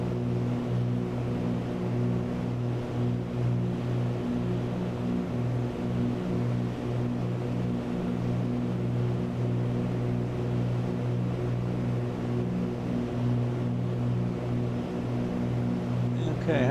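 Twin engines of a Cessna 310R airplane drone loudly and evenly through a cockpit headset during a climb, a constant harmonic roar with occasional talk over it.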